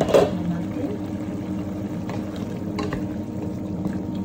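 Chicken afritada with green peas is stirred in a pan, giving a soft continuous sizzle with scraping stirs and a clatter at the start.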